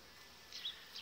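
Honey bees buzz around the hive on a warm March day in a faint, steady drone, with a few louder passes as single bees fly near.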